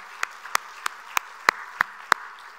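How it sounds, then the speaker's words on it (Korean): Seven crisp, evenly spaced claps from a church congregation, about three per second, fairly quiet against a hushed room. "박수합니다"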